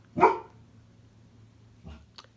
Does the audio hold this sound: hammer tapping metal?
no